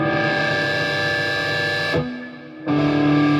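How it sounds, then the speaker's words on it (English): Heavily distorted electric guitar chord on an amplifier's distortion channel, ringing out loud and sustained, cut off briefly, then struck again with a thick, fuzzy buzz. "if I was to change to the actual distortion channel"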